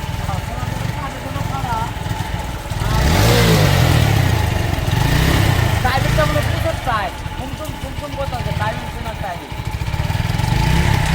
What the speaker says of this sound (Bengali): সাইলেন্সারে পার্টিশন ফাটা